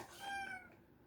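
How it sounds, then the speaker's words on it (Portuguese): A pet cat gives a single drawn-out meow, faint and close, lasting under a second before fading into quiet. "ela fica miando o dia inteiro, eu não sei porquê"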